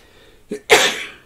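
A single sneeze bursts out sharply after a short inhaled lead-in, close and loud, then trails off into quiet room noise with no talking.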